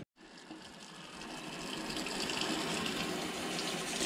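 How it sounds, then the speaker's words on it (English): Running water pours steadily over coho salmon fillets being rinsed of scales and slime, a broad close gushing rush that starts abruptly and swells slightly louder, with no talking. "I'm gonna rinse these off, dry them off, get all the scales and slime off"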